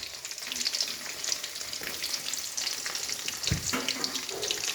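Neem leaves and curry leaves frying with fenugreek, ginger and garlic in a pan, a loud crackling sizzle throughout with occasional stirring knocks, close and continuous with no speech.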